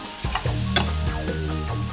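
Cleaned, cut crab pieces dropped into a hot frying pan, a loud close sizzle with a few sharp clatters and stirring scrapes as the pieces hit and settle, no talk.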